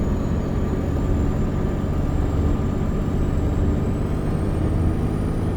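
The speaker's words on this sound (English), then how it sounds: "Okay, diesel engine." A diesel locomotive engine runs steadily in a train simulator game, a continuous low rumbling drone with a faint high whine on top and no talk.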